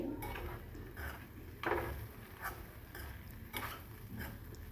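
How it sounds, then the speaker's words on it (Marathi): Spoon stirring valpapdi bean sabji in a pan, a series of soft scraping clinks at an uneven pace, close and fairly quiet. "पाच मिनटानंतर पुन्हा झाकण काढून भाजी आपण हलवून घ्यायची आहे चमच्याने व्यवस्थित अशी"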